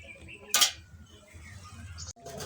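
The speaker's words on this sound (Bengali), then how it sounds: "এখন ঢেকে দেব আমি।" A lid is set on a metal cooking pot of Bengali curry with drumsticks, eggplant, potato and pumpkin bori, making one bright, close clatter over a low kitchen hum and faint background voice.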